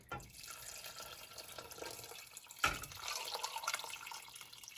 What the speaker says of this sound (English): fill that with water, another liter of water